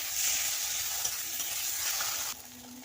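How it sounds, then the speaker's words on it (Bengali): A ground paste of cumin, coriander, poppy seed and mustard fries in a pan for a soybean curry, a steady, close hiss of sizzling with stirring throughout that drops in level just before the end. "ভালো করে কষিয়ে নেব বেটে রাখা জিরা ধনা আর পোস্ত আর সর্ষে একসঙ্গে পাঁচ মিশালি মশলা আমি ওর সঙ্গে দিয়ে দিলাম"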